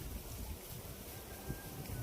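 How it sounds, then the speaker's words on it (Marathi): Wind blows outdoors in gusts, buffeting the phone microphone with a low rumbling roar that stays loud and steady throughout. "वारं येतं इकडून"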